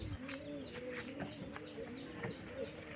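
Domestic pigeons from a breeder's old lineage coo in soft, repeated rolling calls, close by and steady under someone talking.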